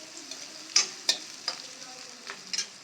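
Chopped onion, green chillies and a pinch of asafoetida frying in a pan for arbi bharta, a soft sizzle with several sharp stirring scrapes and clicks spaced irregularly.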